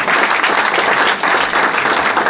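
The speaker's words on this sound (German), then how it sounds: "Applaus für Herrn Drahtschmidt." A stage audience at the Schöne Münchnerin 2014 event applauds Herr Drahtschmidt of Foto Video Sauter, a dense, steady, loud burst of many hands clapping that holds without a break.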